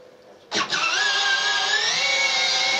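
Small petrol engine on a toddler's ride-on toy car starting up with a sharp catch, then settling into a steady, buzzing idle close by, with no talk over it.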